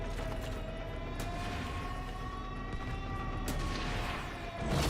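An alarm siren in a video game wails in long, sustained rising and falling tones over a heavy, rumbling mechanical background, with a few sharp thuds and a louder swell near the end.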